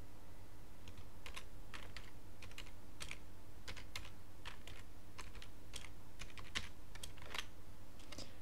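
Keystrokes on a computer keyboard as a password is typed, a steady run of close, crisp clicks in irregular bursts over a low constant hum, with no talking.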